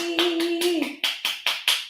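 Audience clapping for a performer at a live concert, a few sharp claps that become steady rhythmic applause after a sustained sung or spoken voice at the start.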